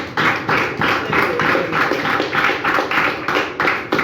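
A church congregation claps in a steady rhythmic beat, about two claps per second, loud and close, repeating evenly with no voices on top.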